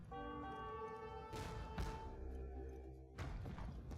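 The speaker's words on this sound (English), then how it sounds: "here come bomber cannons now to push down these fortifications" Bombard cannons fire on fortifications in an Age of Empires match: a few faint, heavy thuds and booms spaced a second or two apart over quiet in-game background.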